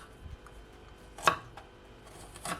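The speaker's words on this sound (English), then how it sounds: "So my ginger is all washed, so I'm just gonna cut it small." A knife chops through fresh washed ginger with its peel on, giving one sharp near thunk on the board and a lighter cut near the end over a quiet background.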